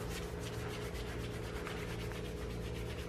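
Dried oregano crumbled between the palms by hand for salpicon gives a soft, steady, close rubbing rasp, faint and continuous for a few seconds with no voices.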